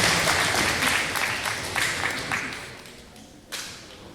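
Crowd applause at a graduation ceremony in Keeseekoose, a dense patter of clapping that gradually fades over a few seconds, with one sharp knock near the end.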